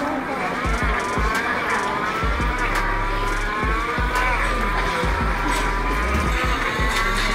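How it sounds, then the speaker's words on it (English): Racing video game running on a Huawei 5G phone, its engine roar rising and falling in layered, droning revs with a steady loud bed of game sound throughout. "So we're loading up a racing game right now."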